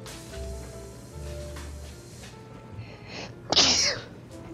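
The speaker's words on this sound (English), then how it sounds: "Oh, excuse my sneeze." A single loud, close human sneeze bursts out near the end, set against quiet background game sounds.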